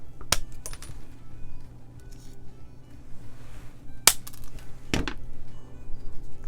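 Metal wire being trimmed with snips or pliers while shaping a mason jar lid ring into a pumpkin, giving three sharp, isolated metallic snaps spaced a few seconds apart over quiet room noise.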